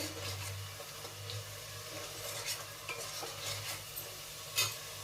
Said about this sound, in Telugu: పసుపు ఉప్పు వేసి వేసి బాగా కలుపుకోవాలి